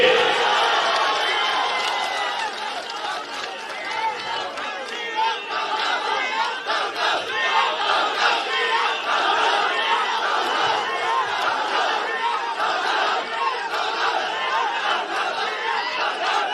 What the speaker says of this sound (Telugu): గట్టిగా సైకో ముఖ్యమంత్రిని డౌన్ డౌన్ అని గట్టిగా చప్పట్లు కొట్టి నిరసన తెలియజేయండి